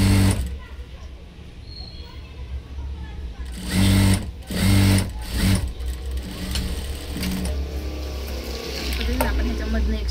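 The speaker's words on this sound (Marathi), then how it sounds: "आपण ह्याच्यामधनं एक शिलाई मारून घेणार आहे" A sewing machine stitching blouse fabric runs in short bursts of rapid mechanical chatter, close and fairly loud, with someone speaking between and over the stitching.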